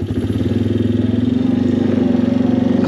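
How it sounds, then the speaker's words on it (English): A Can-Am Outlander 450 ATV engine pulling hard to climb an obstacle on a trail, a loud, steady throbbing drone with a rapid pulsing rhythm that builds slightly, close up. "Let's see if I can climb over it, like, on the four-wheeler."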